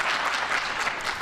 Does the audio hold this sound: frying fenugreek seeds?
no